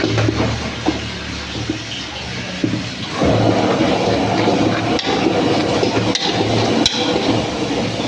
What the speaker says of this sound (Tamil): இப்போ மட்டன் லிவர் அவியத்துக்காக கொஞ்சம் தண்ணி விட்டுப்போம்